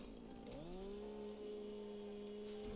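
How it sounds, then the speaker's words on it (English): A big chainsaw in the Satisfactory game clearing trees: the motor revs up and settles into a steady, sustained buzzing whine, fairly quiet and alone, held for a couple of seconds. "There's something very cathartic about clearing an area with a big chainsaw."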